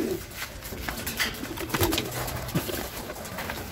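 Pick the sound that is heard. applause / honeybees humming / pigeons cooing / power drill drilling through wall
pigeons cooing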